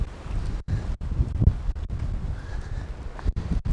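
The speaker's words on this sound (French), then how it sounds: "Et il y a toujours autant de vent." Strong wind on a mountain buffets the microphone in loud, gusty low roars, broken by several abrupt momentary dropouts.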